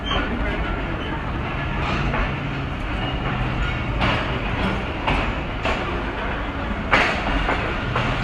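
Hazara Express train departing Bhalwal railway station in Pakistan, heard from inside a coach: a steady rolling rumble with repeated clicking wheel-joint knocks and sharper clacks, close and continuous.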